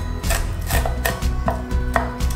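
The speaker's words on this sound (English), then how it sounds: "4 pieces of bacon, chop up roughly" Knife chopping four strips of bacon roughly on a board, a run of crisp, evenly spaced thuds roughly every half second, close and fairly loud with no talk.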